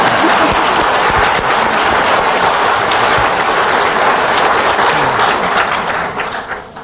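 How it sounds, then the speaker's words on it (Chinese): A large lecture hall audience at Fudan University breaks into loud, sustained applause, dense and even throughout before tapering off at the very end. "请鼓掌。"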